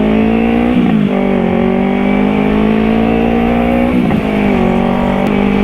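A Yamaha R3 motorcycle engine held at a steady idle-to-rev in heavy traffic, droning loudly and close with brief throttle blips around the first second and near the fourth, keeping it from stalling.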